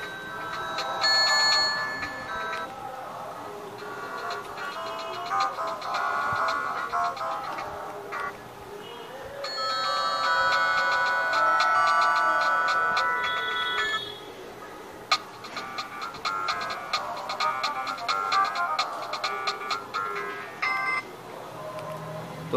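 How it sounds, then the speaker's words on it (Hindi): A Micromax S117 keypad mobile phone plays its ringtone, a bright electronic melody of beeping tones in repeated phrases with short pauses, close and clear, alone. "चेक करना है रिंगटोन।"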